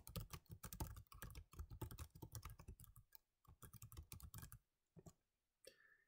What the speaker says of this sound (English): As I type along doing my query